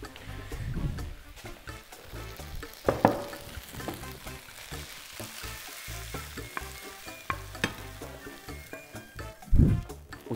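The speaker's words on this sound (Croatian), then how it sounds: "Kada naše meso počne da dobije ovu zlatnu boju, možemo ga izvaditi iz tave" Meat for Iločki ćevapi frying in a pan, giving a steady close sizzle with frequent stirring scrapes and occasional louder knocks of a utensil against the pan.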